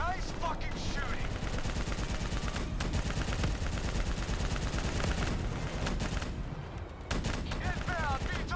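Dense, near-continuous gunfire fills a Call of Duty: Black Ops III battle, loud automatic bursts layered with heavy impacts and brief lulls, while voices talk beneath the shooting.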